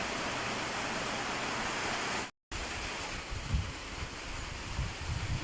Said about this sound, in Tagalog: sobrang lakas ng hangin. Kung naririnig nyo po. Tapos yung ulan, lumalagasa din.